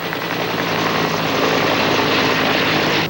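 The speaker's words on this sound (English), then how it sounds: "While helicopters with loads of water worked to keep hot spots from rekindling" A firefighting helicopter carrying water flies over a forest fire in Atlantic County, New Jersey, its rotor and engine a loud, continuous, close drone that holds steady throughout.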